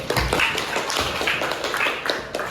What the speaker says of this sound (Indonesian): Tepuk tangan ini dulu.